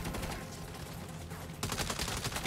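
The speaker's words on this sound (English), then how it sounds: "Why am I reloading after every shot?" Gunfire fills a firefight in the video game Saints Row (2022) on Xbox Series X, a dense run of shots under a busy combat bed that turns into a sharper, louder burst of rapid cracks toward the end.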